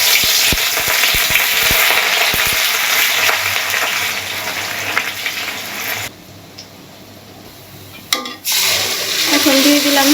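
Chopped onion frying in oil with cardamom, cinnamon, bay leaf and cumin, a loud steady sizzle with stirring clatter that drops off briefly, then returns with a quieter hiss, as a voice talks alongside.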